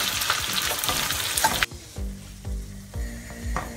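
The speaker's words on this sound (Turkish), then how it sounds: "Eriyen yağımın üzerine yıkayıp ayıkladığım pirincimi ekliyorum. Bir güzel kavuruyoruz arkadaşlar." Washed rice toasting in melted fat in a pan for a chicken and chickpea pilaf: a loud, dense sizzle that drops suddenly, then rhythmic stirring strokes roughly every half second over a softer frying hiss.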